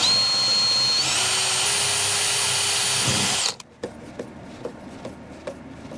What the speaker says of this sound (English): So what I'll go along and do now is just drill the other holes